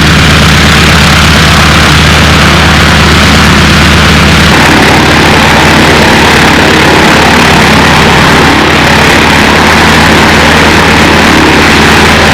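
A radio-controlled model aircraft engine runs loud and steady at an airfield, a constant buzzing drone that shifts slightly in pitch partway through, with no talk.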